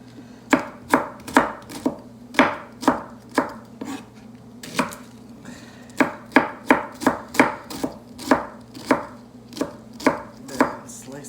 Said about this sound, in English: Cut them in half, slice them up real thin.